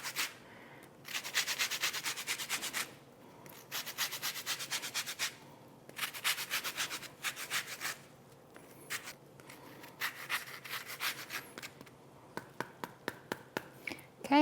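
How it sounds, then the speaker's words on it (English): An orange is zested over a squash salad, giving rapid scratchy rasping strokes in short bursts with brief pauses between, close and fairly quiet, with no talking. "we're gonna take our orange and we're just gonna zest it"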